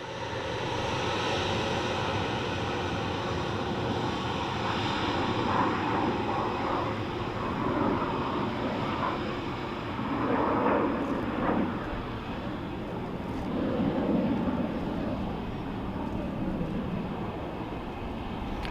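An ATR turboprop lands at an airport, heard as a steady, fairly distant rumbling drone that rises and falls gently over its length, with no talk.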